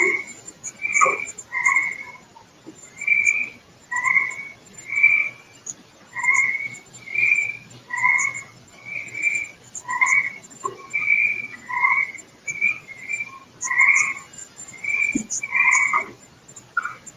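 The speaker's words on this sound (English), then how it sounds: "There's some frogs in this one." Frogs croak repeatedly in a steady, regular rhythm outdoors, each call a clear two-part croak repeating roughly every second for the whole stretch, moderately close with no talking.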